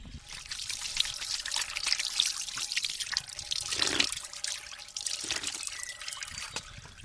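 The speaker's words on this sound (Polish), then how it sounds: "A woda wypływa z muszli." Spring water trickles steadily from a small stone shell spout in an overgrown park, a bright splashing flow with slight gurgles and faint birdsong in the background.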